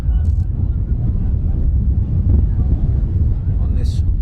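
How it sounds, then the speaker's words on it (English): Strong wind buffets a microphone outdoors at a youth football game in West Roxbury, making a loud, continuous low rumble while a commentator talks over it. "on this very windy Saturday afternoon here in West Roxbury"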